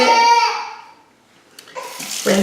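A makeup brush sloshes and swishes in a bowl of water, a loud close splashing that fades to near quiet before a second burst of wet agitation.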